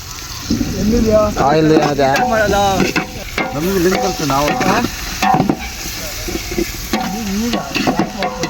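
Chillies are stirred through hot oil in a pan while cooking for a party, giving a steady sizzle with scraping stir strokes. Voices talk over the frying throughout.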